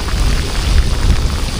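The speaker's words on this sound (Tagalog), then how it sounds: "Lakas ng ulan." Heavy rain pours steadily and close by during a fishing and foraging outing, a dense continuous wash of drops with low rumbling underneath that may be distant thunder.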